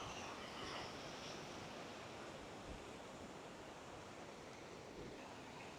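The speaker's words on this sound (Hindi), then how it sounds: "चेक करें समुंदर की लहरें।" Sea waves at Dolly Beach on Christmas Island, a steady broad wash of surf rolling continuously at a moderate distance with no voices over it.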